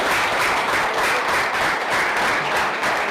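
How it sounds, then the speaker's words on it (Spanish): A church congregation keeps up loud, continuous applause at a religious workshop, a thick even roar of many clapping hands with no talking over it. "Más fuerte ese aplauso a la palabra de Dios"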